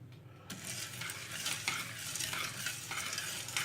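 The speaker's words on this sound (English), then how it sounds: "just stand here now and stir in this the candy sugar" Candy sugar being stirred into a pot of homebrew wort during a Belgian blonde brew day, with a steady scraping swish at close range and a constant wash of texture and no talking.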